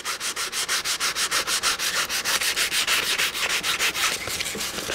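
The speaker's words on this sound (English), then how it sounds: "Sand it lengthwise." Rhythmic back-and-forth strokes of 400 grit sandpaper run lengthwise along a fishing rod shaft, close and steady at roughly three strokes per second, with no voices.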